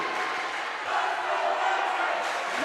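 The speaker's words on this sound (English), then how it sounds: "Lancers crowd starting to get into it" Lancers fans cheering at a girls volleyball Shore Conference final, a dense, sustained roar of crowd noise that swells slightly partway through, with no clear voices standing out.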